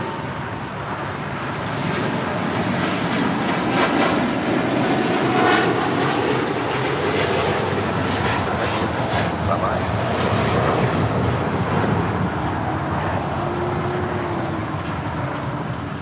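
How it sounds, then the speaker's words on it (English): A United Airlines Boeing 787-10 Dreamliner takes off at LAX, its jet engines a loud, steady broadband roar that swells after the first two seconds and holds strong throughout, with wind buffeting the microphone. "This is United Airlines Flight 39 Heavy taking off to Tokyo Haneda on a 787-10 Dreamliner"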